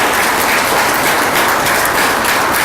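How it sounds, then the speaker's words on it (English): Audience applause at a Vietnam veterans pinning ceremony, with a dense, steady crowd clapping that stays loud and continuous throughout. "Let's give him a big round of applause."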